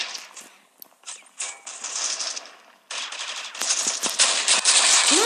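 A mini pistol fires in the shooter game Critical Ops, rapid crackling shots in quick bursts, close and increasingly dense, with no talking over them.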